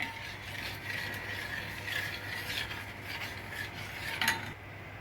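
A spoon clinks and scrapes against a dish while essence is stirred into a china grass milk pudding mixture, giving soft irregular metallic taps over a low, quiet background.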